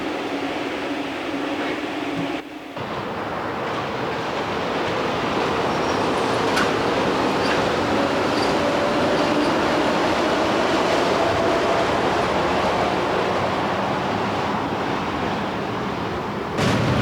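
Electric train with four cars and eight electric motors, one per pair of drive wheels, running on about 700 volts, gives a steady loud rolling rumble that holds throughout with a brief dip early on.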